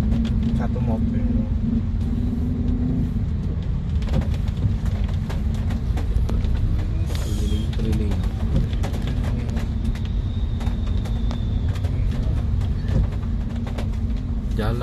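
A car crawls through a congested road in Malang, its engine and road noise a constant close rumble, with surrounding traffic, a passing horn-like tone and some talking mixed in.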